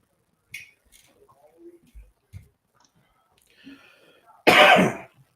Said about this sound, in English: She's got some sort of cough or something.